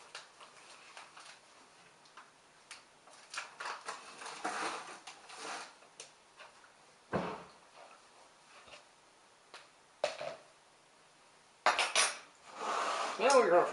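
Thick, stiff cream cheese being mixed for a cheesecake in a home kitchen, giving irregular clinks and scrapes of a utensil against a bowl with brief louder knocks, close up, with no talking.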